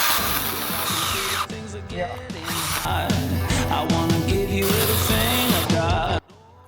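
A small battery-powered mini chainsaw, a Stihl GTA 26 or ProCraft PKA 45, whines steadily while cutting wood, its pitch dipping under load, then it stops abruptly near the end.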